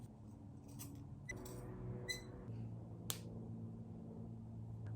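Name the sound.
scissors cutting fabric into a scallop shape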